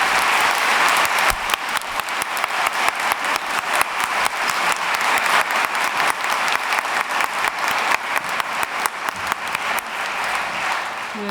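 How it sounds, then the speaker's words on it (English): A large audience at a 2022 baccalaureate gives the graduating class a long, loud round of applause, many hands clapping in a dense continuous roar that holds strong for over ten seconds. "Can we give you a huge round of applause?"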